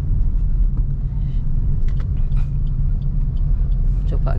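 Car engine pulling uphill in third gear on a regional road near Kudus, a steady loud low rumble with road noise, with a person talking over it.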